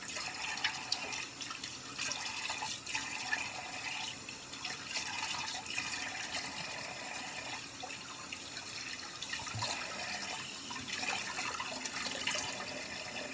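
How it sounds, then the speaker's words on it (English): Steady, soft rush of running water splashing over a freshly razor-shaved head, a continuous faint hiss with occasional splatter and no talking. "I'm just rinsing my head off"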